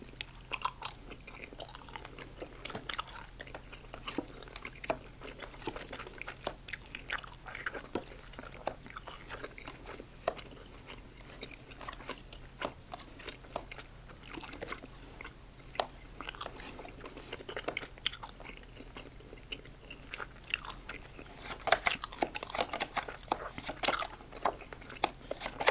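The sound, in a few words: gum chewing mouth sounds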